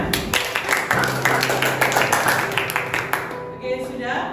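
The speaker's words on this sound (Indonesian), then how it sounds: "Tepuk tangannya mana?" Students in a classroom give a burst of brisk clapping that fades out after a few seconds, with voices talking over it.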